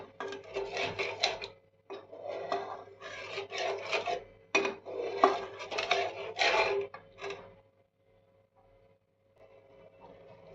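A spoon scrapes and rubs around a pan while paneer yakhni is sautéed with a little water, in bursts of rasping strokes that are close and clear, then stop and leave near silence.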